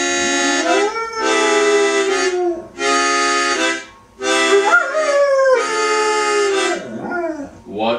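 A dog howls in long, sustained, wavering notes, several drawn-out howls with brief pauses between them, loud and close.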